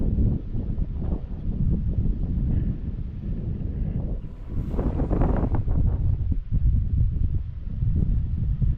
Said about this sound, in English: It looks windy out there, Zach.